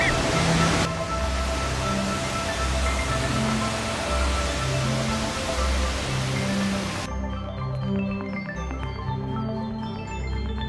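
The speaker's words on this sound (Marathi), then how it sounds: "तुम्ही धबधब्याचा सीन एन्जॉय करा." Ekiv waterfall in Satara during the monsoon, a loud continuous roar of falling water close by, broadband and unbroken, with a low rumbling undertone throughout.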